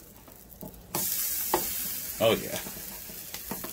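Pork roll fries in a pan with a sudden hissing sizzle that stays strong, broken by a few scrapes of a spatula, and a brief spoken remark comes over it.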